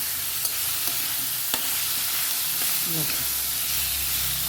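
Potatoes and vegetable stems frying in a pan with onion and five-spice tempering, a continuous sizzle with scraping stirs, some sharper clicks and utensil knocks rising above the steady hiss.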